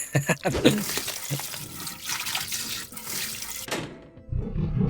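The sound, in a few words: creature eating a sacrifice in video game RailGods of Hysterra, flushing-like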